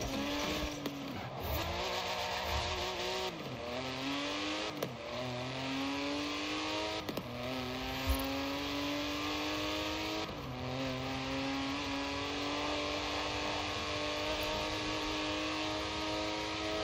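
Cars race in the video game Forza Horizon 4, engines revving loud and continuous with repeated gear-shift pitch climbs and drops, and no talk over the steady roar.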